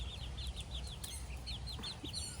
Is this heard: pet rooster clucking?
yes